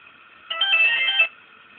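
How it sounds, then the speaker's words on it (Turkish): A mobile phone rings after being called as part of a relay control circuit, one short burst of bright electronic ringtone lasting under a second, fairly loud and alone against a faint steady hum. "Şimdi devredeki cep telefonumuzu arıyoruz şimdi."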